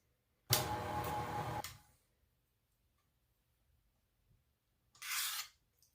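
A utensil scrapes cheesecake batter and granulated sugar around a bowl in two bursts, one long sweep of about a second followed by a shorter one after a quiet pause.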